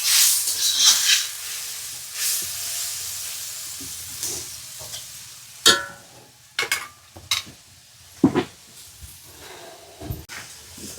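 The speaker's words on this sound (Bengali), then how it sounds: "সর্ষে বাটার জলটা দিলাম।" Mustard paste water poured into a hot pan gives a bright sizzle and hiss at first, which fades into scattered bubbling and stirring clinks.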